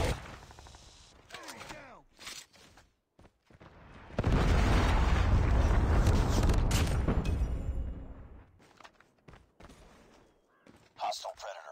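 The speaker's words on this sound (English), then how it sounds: "Be advised, hostile Predator missile inbound." A Predator missile strike in the shooter game Call of Duty Mobile: a loud, sustained explosive roar swells and holds for several seconds between scattered gunshots, bursts of game effects and a radio voice.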